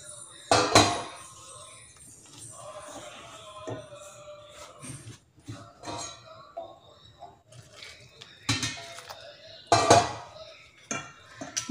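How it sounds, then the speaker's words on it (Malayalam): A metal spoon mixes rice flour dough with hot water in a pot for rice murukku, clanking and scraping against the sides in irregular bursts, some sharp knocks standing out, with no talking. "എന്നിട്ട് കുറച്ച് കുറച്ചായിട്ട് ഒഴിച്ച് കുഴച്ചെടുത്താൽ മതി."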